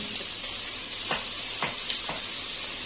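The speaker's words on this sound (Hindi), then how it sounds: "इसमें मैं अदरक लहसुन का पेस्ट डालूंगी।" Crushed ginger-garlic paste sizzles in a pan of frying onions for a masala bhindi dish, a steady close hiss broken by a few soft stirring scrapes, with no talking.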